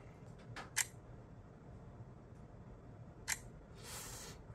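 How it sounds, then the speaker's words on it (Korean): A Xiaomi 12S Ultra phone camera fires its shutter sound twice, each a short crisp click a few seconds apart, close and clear against a quiet room. "카메라 셔터음이 아주 고급스럽지는 않네요."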